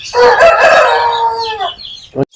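A young rooster about four to five months old crows once, loud and close, its long call trailing off, followed by a brief short cluck.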